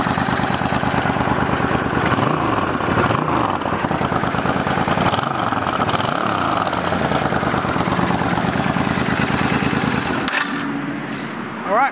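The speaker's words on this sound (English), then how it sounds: "These are the stock mufflers. They've got a nice sound to them." A 2007 Suzuki Boulevard S50 motorcycle with stock mufflers idling close by, giving a steady, even throb that carries on for about twelve seconds with slight variations in pitch.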